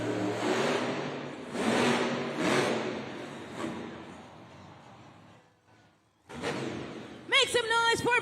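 A Monster Jam truck's engine revs loudly in an arena, surging in repeated roaring pulses under announcer talk, dropping briefly near silent before a sharp thud and harsh mechanical screech.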